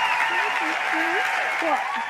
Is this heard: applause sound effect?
yes